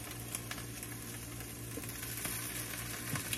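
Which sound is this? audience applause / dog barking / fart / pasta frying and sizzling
pasta frying and sizzling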